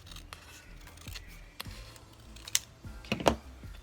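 Scissors snip off a perforated paper scrap during a mini flag craft, a few soft, crisp cuts and rustles close by at low volume, with no talking.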